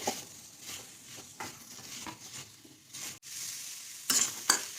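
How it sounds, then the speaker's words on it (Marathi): Sliced onion dry-roasts without oil in an iron kadhai, a faint dry crackle under repeated spatula scrapes and light metal taps, with a couple of sharper clinks near the end. "आता यामध्ये मी तेल अजिबात टाकणार नाहीये मी कांदा असाच बिना तेलाचाच भाजून घेणार आहे"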